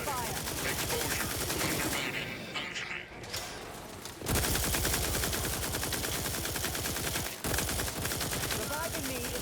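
Rapid automatic gunfire from a sci-fi shooter role-playing game, The Outer Worlds 2, crackling loud and nearly continuous across the whole stretch with a brief lull midway, layered with game effects.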